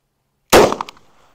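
A single sharp gunshot from a 2-inch revolver firing 38 Special loads cracks out loud and close after a moment of silence, then rings off with a short decaying tail.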